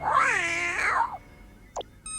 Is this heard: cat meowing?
yes